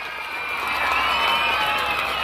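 Audience at a school Children's Day celebration in Kanchikacherla clapping together, a dense steady wash of applause with some crowd noise, held at an even level throughout.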